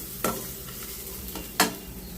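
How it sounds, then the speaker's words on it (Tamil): Coconut, green chili and a large piece of ginger sautéing in a pan, with two sharp scraping stirs of a spatula over a low steady sizzle. "மிளகா இஞ்சி ஒரு துண்டு பெரிய துண்டு எடுத்து வதக்கிட்டு இருக்கேங்க"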